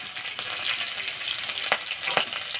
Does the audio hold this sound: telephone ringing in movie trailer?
no